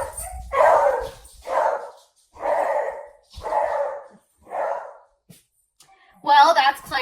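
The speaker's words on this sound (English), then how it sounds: "So just in case you're curious, he's a beagle." A beagle gives five loud, close barks in an even rhythm with short pauses between them, then lets out a higher yelping whine.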